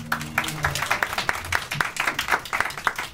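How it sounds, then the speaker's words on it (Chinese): Applause for Junwei from a classroom audience at a lecture on R&B and soul music, scattered hand claps carrying on steadily for a few seconds, fairly close, with a low hum beneath and no talking. "我们先给君威掌声鼓励一下。"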